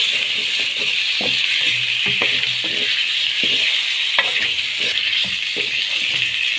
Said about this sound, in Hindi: तो इनको भी इसी तरह ऑयल में थोड़ा सा हम फ्राई कर लेंगे।